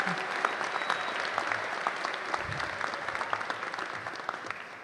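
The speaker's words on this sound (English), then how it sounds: "Please clap for yourselves one more time." A graduating class at a 2022 college commencement applauds, a dense, sustained patter of many hands at moderate distance that slowly tapers, with a faint voice briefly underneath.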